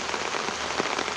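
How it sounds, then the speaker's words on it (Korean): Steady late-summer rain falls and patters on surfaces, a dense, even hiss with scattered nearby drops and no voices. "늦더위를 식혀주는 반가운 비가 내리는 날."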